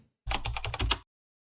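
A short burst of rapid keystrokes on a computer keyboard, about seven close, crisp taps in under a second, ending with the Enter key and then silence.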